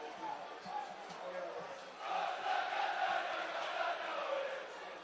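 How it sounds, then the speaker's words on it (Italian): Football fans at a stadium during the Ragusa versus Catania match, a distant crowd roar that swells noticeably halfway through and holds steady, faint under a commentator's voice. "Tifosi che si fanno sentire"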